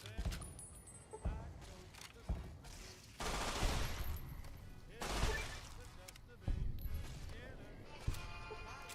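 Submachine gun fire in Fallout: New Vegas, rapid bursts of automatic shots in several volleys with sharp impacts and crashes between them, fairly close, with occasional voices underneath.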